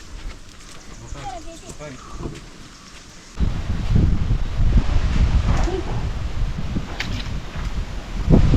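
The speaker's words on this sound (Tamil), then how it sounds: "காற்று செமையாக இருக்கு" Wind gusts buffet the microphone with a steady low roar that grows louder partway through, joined by rustling and faint background voices.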